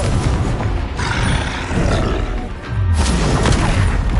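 Confringo fire spells explode during a spell-heavy fight in the video game Hogwarts Legacy, loud booming blasts with roaring, growl-like rumbles between them, one brief drop before a final heavy burst.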